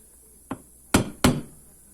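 Three sharp metallic hammer blows tap a crank bearing into its seat, one lighter hit followed by two louder ones in quick succession, close and alone.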